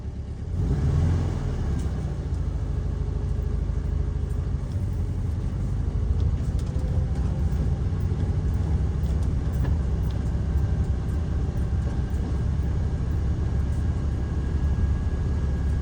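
Volkswagen Super Beetle fitted with a Vintage Speed muffler, heard from inside while cruising, a steady deep engine rumble and drone that holds throughout with slight shifts in pitch.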